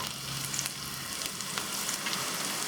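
Onion, mint and coriander sauté in a pan for spinach rice, giving a steady, even sizzle of frying throughout with no voices.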